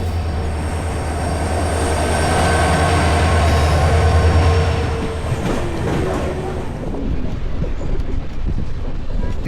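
A passenger train travels on rails through Assam toward Dimapur on the Kolkata to Nagaland route, a loud, continuous rumble of wheels and carriage heard from inside, with clatter and shifting roar as it runs.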